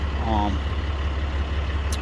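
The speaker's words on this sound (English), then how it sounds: "how the engine idles, if it's fairly free or it's pretty tight" A 2016 Ram 3500 pickup with 530,000 miles sits idling, giving a steady, low, even rumble close by, with a brief voice at the start.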